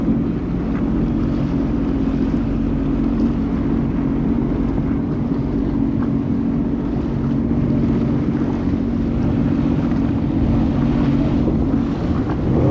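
A jet ski engine idles on open water off Key West, a loud steady low rumble mixed with wind buffeting the microphone and water wash, with no break throughout.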